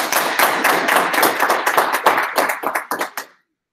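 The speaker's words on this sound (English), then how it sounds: "you just have to applaud" A small audience claps after a conference talk on open source licenses, with crisp, close hand claps in a loose, uneven rhythm that thin out and stop abruptly.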